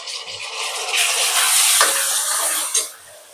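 Tomatoes hit a hot pan of garlic paste for street-style pav bhaji, setting off a loud, steady hiss and sizzle close up, with faint scraping of stirring and a brief clank near the end.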